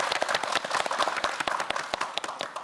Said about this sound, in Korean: 오늘의 킹왕짱 송하선 학생에게 다시 한번 큰 박수 부탁드립니다